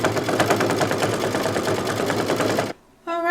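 A multi-needle embroidery machine stitching a Halloween placemat owl block, with fast, even, rhythmic mechanical clatter that stops abruptly, followed by a brief tonal beep.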